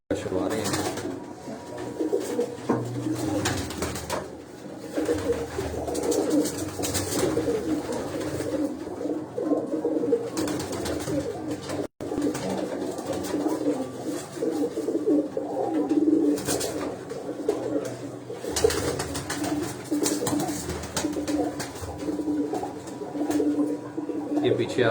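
Tumbler pigeons coo on a rooftop loft, soft repeated cooing over steady ambient noise and movement, continuing through the whole stretch.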